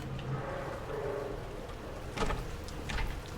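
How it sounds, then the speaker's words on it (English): Steady rain in the dark outdoor streets of Silent Hill 2, a continuous soft hiss with a couple of sharper splashy bursts near the end, moderately quiet and with no one talking. "Oh, I hate that it's dark and rainy out here."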